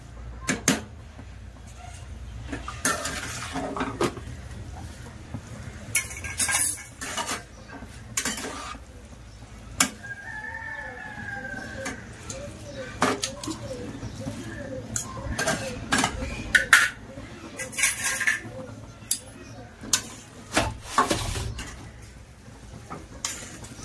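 Cooked vegetable noodles being stir-fried in a pan at home, with scattered metal clinks and scrapes of a spatula against the pan over low background sizzle and hum.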